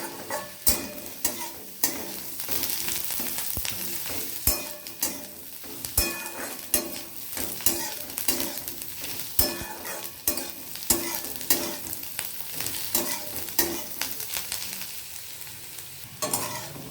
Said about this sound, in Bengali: পেঁয়াজটাকে আমাকে 3 থেকে 4 মিনিট ভালোভাবে ভেজে নিতে হবে, যতক্ষণ পর্যন্ত গোল্ডেন কালারটা না আসে